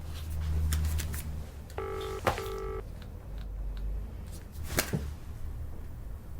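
A brief electronic phone tone sounds twice in quick succession amid low room rumble and a few scattered clicks and knocks.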